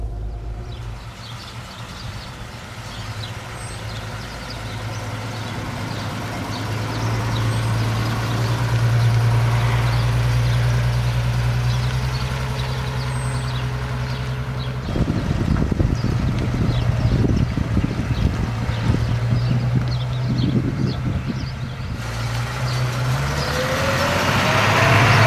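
A 1955 Mercedes 300 b Cabriolet D engine runs with a steady low rumble that rises as the car pulls away in first gear, with the sound turning rougher and louder partway through.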